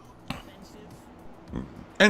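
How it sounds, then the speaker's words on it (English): A man lets out a short snort, then a quick burp about a second later, both close and fairly loud over faint background. "He snorted and then also fucking segued into a fucking burp."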